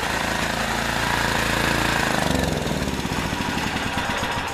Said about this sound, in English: It's actually going to idle halfway decent now.